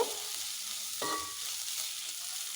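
Okra pulse curry (bendakaya pulusu) is stirred in a hot pot, giving a continuous bright sizzle with scraping strokes of the spoon and one sharper clink about a second in.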